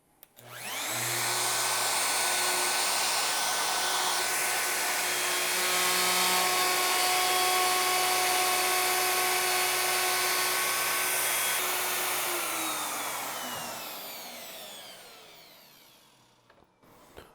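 A router cutting a mortise in wood for an Arts & Crafts settee: a steady high motor whine with cutting noise that runs for about twelve seconds, then spins down and stops.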